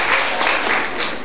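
Children's school television audience applauds, a short burst of dense clapping that swells in waves, loud and close.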